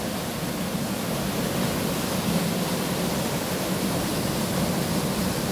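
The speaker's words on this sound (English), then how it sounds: "That's a lovely waterfall." Waterfall in the grounds of Leeds Castle in Kent, a steady broadband rush of falling water that continues evenly and fairly loud throughout, with no voices.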